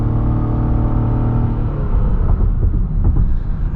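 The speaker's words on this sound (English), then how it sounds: "A little bit of spin from the front tires there off the line." A 2021 Lexus RX 450h F Sport pulls away hard from a stop with a little front-tire spin, heard from inside the cabin as a rising engine hum over a steady, loud road rumble.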